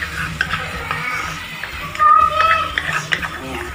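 A coconut and condensed milk mixture with cardamom is stirred in a pan for coconut burfi, giving a soft scraping and sizzling texture with a few clinks of utensil on metal, fairly close and steady.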